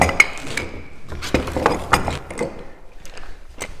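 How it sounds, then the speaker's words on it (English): Parallel clamps being fitted and tightened on a wooden jewelry box in a workshop, giving a run of close, irregular clicks, knocks and ratcheting taps with no talking. "So I'm going to put 3 more clamps on there now that I have that situated."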